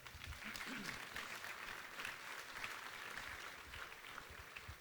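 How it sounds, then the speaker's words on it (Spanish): A church congregation applauds continuously, a dense wash of clapping that holds steady throughout. "¿Cuántos le dan un aplauso al Señor?"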